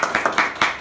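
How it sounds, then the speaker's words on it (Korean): A few hands clap at a church Bible study, four or five close, fairly loud claps in a quick, slightly uneven rhythm. "와, 박수."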